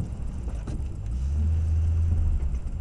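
A car speeds past on a road, its low rumble swelling and holding for a second or so before easing off, alone without talk.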